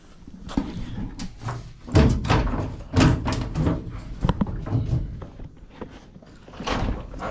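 Door of a 1965 Chevrolet C10 truck being worked, with a series of clunks, rattles and hard latch knocks in irregular bursts, fairly close and loud.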